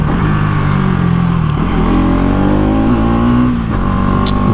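A Bajaj Pulsar NS200 motorcycle engine revs hard and steady close by, its pitch climbing and dipping with the gear shifts, loud and alone with no talk over it.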